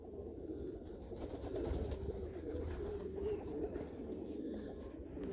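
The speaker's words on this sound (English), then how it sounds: "here's a little racing pigeon." Racing pigeons, tiger grizzles and meulemans, coo softly in a loft, a continuous low murmur of several birds close by with a steady, gentle texture and no clear talk over it.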